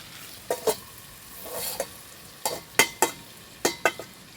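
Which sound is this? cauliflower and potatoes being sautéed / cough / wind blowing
cauliflower and potatoes being sautéed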